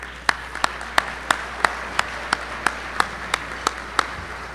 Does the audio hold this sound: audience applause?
yes